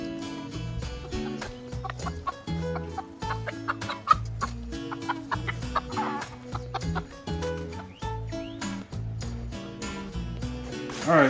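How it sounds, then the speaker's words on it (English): Several chickens loose at a rural spot in the Farallones de Cali jungle of South America, clucking in a steady stream of short calls over a continuous background, fairly close and with no speech. "Chicken are out."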